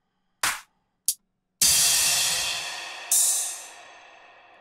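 Electronic drum hits for a remix: two short percussive thumps, then a long white-noise impact swell that decays, followed by another noise burst fading out; loud and alone, no voices.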